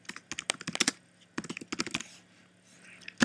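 Typing on a computer keyboard during a Photoshop session: bursts of crisp, rapid key clicks in two quick flurries separated by a short pause, close and clear, with no talk over them.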